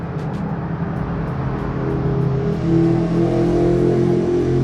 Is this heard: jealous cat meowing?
no